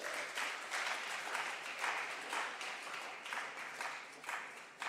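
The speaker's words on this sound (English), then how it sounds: "A round of applause for them." Conference audience applause welcoming the Gabon delegation at an international gathering, steady faint clapping from a crowd heard at a distance, rising and falling slightly over a few seconds.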